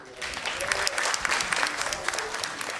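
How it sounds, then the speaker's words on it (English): An audience at a national reform forum claps steadily and loudly for a woman who has just spoken, with dense continuous applause from start to finish and no voices over it. "and please clap for her"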